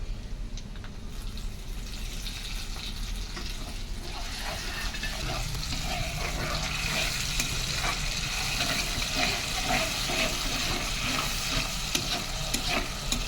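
Tomato frying in a pan for biryani, a building hiss that grows into a steady loud sizzle with rhythmic spatula scraping and stirring, close and continuous, no talk.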